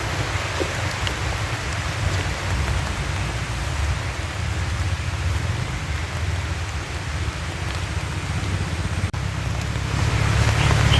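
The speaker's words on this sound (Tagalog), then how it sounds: "Yan na ang ulan na naman, idol" Steady heavy rain pours down during a typhoon in the rural Philippines, a dense, continuous hiss of drops hitting surfaces that holds constant and swells slightly toward the end. No one speaks over it.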